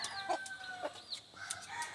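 Chickens, a hen and a rooster, cluck and make short calls in quick repeated bursts, close and clear over a quiet background, with no talking.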